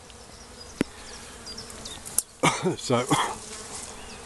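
Honey bee swarm buzzing around a newly placed hive, a dense insect hum throughout, with individual bees droning close past and a brief spoken word.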